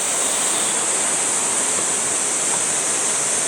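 Steady, dense rushing of falling water at Gorae Falls, the seventh of the twelve falls on Seongchisan in Geumsan, South Korea; loud and unbroken throughout, like standing near a waterfall.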